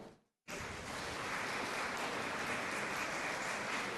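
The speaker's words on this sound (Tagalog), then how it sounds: "Pumalakpak ng malakas" Loud, dense applause from a church congregation during a homily, bursting in abruptly after a brief silence and holding steady and sustained to the end.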